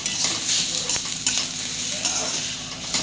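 Masala and peanuts roast in a hot pan for a spicy bitter gourd dish, giving a steady close sizzle broken by scraping stirs of a spoon.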